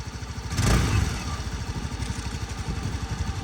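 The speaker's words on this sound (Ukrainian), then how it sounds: "Чистенько, м'якенько працює двигун." A 2017 Suzuki Address V125 scooter engine idles steadily with an even, rapid putter, close by, after a brief louder clatter near the start; no one speaks.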